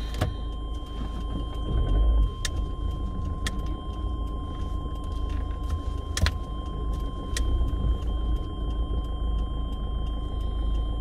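Inside a car driving through Warsaw, a steady low engine and road rumble fills the cabin, with a few sharp clicks and knocks over the drone and no talking.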